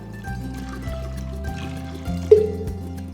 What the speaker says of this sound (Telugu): ఇప్పుడు దీంట్లో కావాల్సినంత నీళ్లు పోసుకోవాలి